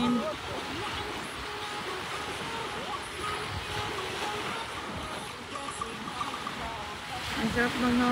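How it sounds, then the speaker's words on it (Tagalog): Wind buffets the microphone over a constant roar of surf at Ajman Beach in the UAE, with faint voices in the background throughout. "Rinig nyo ba yung hampas ng hangin tapos ang alod?"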